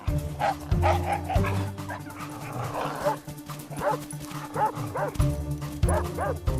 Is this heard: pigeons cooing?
no